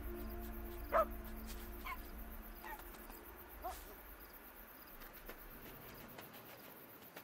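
Fox cubs in the video game Endling: Extinction is Forever give a few faint, scattered yips and whimpers at night over a low ambient bed of insects and birds.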